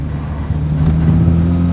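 Honda Fit GD3 driving on a road, a steady low engine hum and road drone from inside the cabin, swelling slightly, with no talking.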